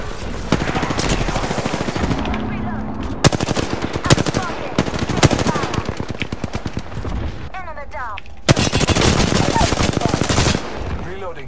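Heavy automatic gunfire in Apex Legends, rapid bursts and rattling volleys filling the scene with short gaps between them, plus occasional in-game voice callouts.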